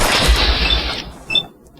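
IMI .50AE Desert Eagle pistol fired in Fallout 4, a loud booming report with a sustained heavy tail, then a fainter second sharp crack as the echo fades.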